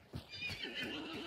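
A horse in the game Hunt: Showdown lets out a clear whinny with wavering high tones, and soft hoof clops mix in underneath, fairly faint and short.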